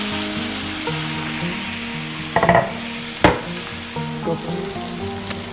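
Chicken breasts frying in a pan, a constant close sizzle with a few louder scrapes and knocks as pieces are moved, no talk.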